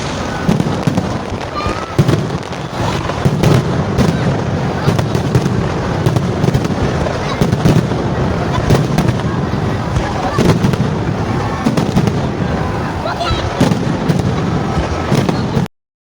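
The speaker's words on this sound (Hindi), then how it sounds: "ये DHA का इलाका है और आतिशबाजी देखे कैसी है" Dense, continuous crackle and booming of fireworks over Lahore's DHA area during an Independence Day celebration, with overlapping pops and bursts throughout, loud and sustained across the whole stretch.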